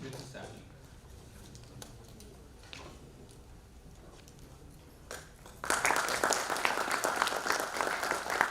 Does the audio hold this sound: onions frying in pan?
no